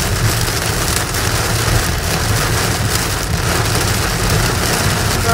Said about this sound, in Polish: Mocniejszy opad.